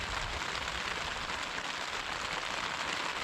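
Steady rain falls during a storm, giving an even, dense hiss of drops on surfaces that continues throughout. No voices can be heard.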